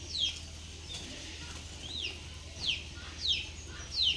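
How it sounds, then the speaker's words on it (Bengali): Faint, repeated high chirps sound at regular intervals over a low steady hum at a Giribaz pigeon farm, distant and soft. "সব কবুতরগুলা কী খাচ্ছেন ভাই?"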